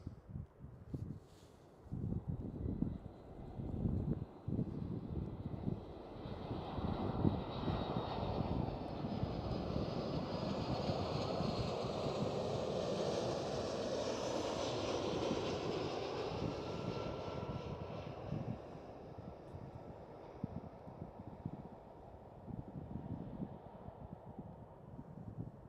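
An Aer Lingus Airbus A320 jet in new livery passes at Amsterdam Schiphol, its steady engine roar building and swelling through the middle before slowly fading, with light wind buffeting on the microphone.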